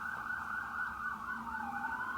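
Ambulance and fire truck sirens wail past, a steady sweeping electronic tone that bends downward as the vehicles move away, moderately distant and alone with no talk.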